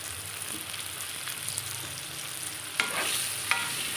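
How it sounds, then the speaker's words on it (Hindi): Onions frying in oil with cumin and turmeric for a bhindi sabzi, stirred in the pan: a continuous close sizzle with a few soft spoon taps and two sharper scrapes toward the end. "पहले हम जीरा और हल्दी से हल्दी में डाल के इस प्याज को ब्राउन होने तक भूनेंगे"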